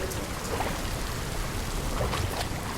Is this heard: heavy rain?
yes